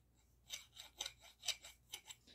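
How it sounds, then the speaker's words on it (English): Hand file rasping over the seams of a lead hollow point air-gun pellet, about eight short scraping strokes in uneven rhythm, close and fairly quiet with no talking. "now I'm going to take the file and just go over those seams there a little bit"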